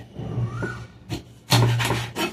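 Several short rasping, crunching strokes, a couple of faint ones then a louder burst, a knife blade grinding through fish bones while cutting a barracuda (Kola fish), up close with no talk.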